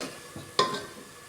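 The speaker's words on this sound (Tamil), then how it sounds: "தேவையான அளவுக்கு உப்பு போட்டு பச்சை வாசனை போகிற அளவுக்கு மசாலா வதக்கலாம்" Ground masala and curry leaves cooking in a pan in village-style country chicken curry preparation, with soft stirring scrapes and a sharp metallic clink of a spoon against the vessel partway through.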